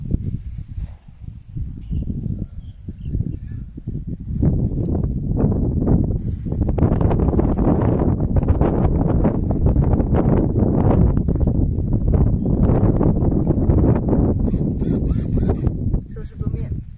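Strong gusting wind during a light aircraft test flight, with a crosswind of 6 to 8 metres per second buffeting the microphone in a loud, continuous low roar, with someone talking.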